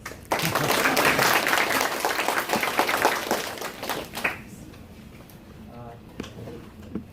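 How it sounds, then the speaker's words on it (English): Applause from an audience at a talk hosted by a club, welcoming a presenter, dense and steady for about four seconds before fading into quieter room noise with faint voices. "So let's give him a round of applause"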